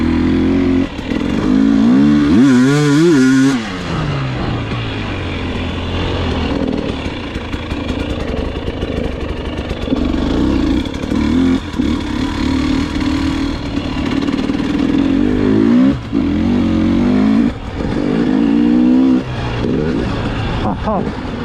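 A 2021 KTM 300 XCW TPI fuel-injected two-stroke dirt bike ridden through winter sand, its engine droning steadily near the microphone with rising revs early on and surges later, and a rider's voice talking over it at times.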